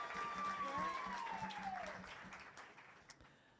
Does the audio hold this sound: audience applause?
yes